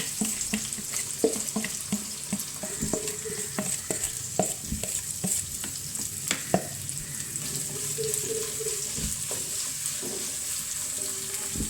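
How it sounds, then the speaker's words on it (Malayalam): Sliced bitter gourd, green chilies and shallots with a pinch of salt sizzle steadily in hot oil, with repeated sharp spatula clicks and scrapes from stirring throughout. "നമുക്ക് ഇതിനകത്തേക്ക് പാവയ്ക്ക, പച്ചമുളക്, ചുമന്നുള്ളി ഒരു പേരിനുള്ളേ ഉപ്പ് ഇട്ടിട്ട് നമുക്ക് ഇതങ്ങോട്ട് അടുപ്പത്തേക്കിട്ട് വറുത്ത് കൊടുക്കാം."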